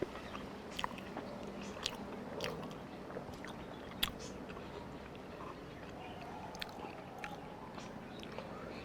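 A person chewing and eating a hamburger, with soft wet squishing and biting sounds that repeat up close through the whole stretch, plus a few sharper crunchy bites.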